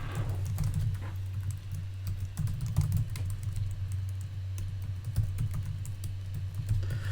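Fast, continuous clicking on a computer keyboard while coding a Solidity smart contract, with bursts of keystrokes over a steady low hum and no speech.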